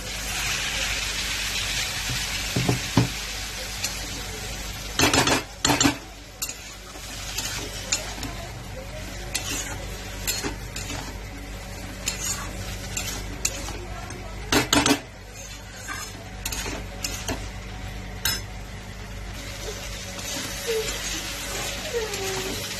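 Soybean curry with cumin and chili cooking in a pan: a faint, steady sizzle broken by occasional sharp clanks of a utensil against the pan.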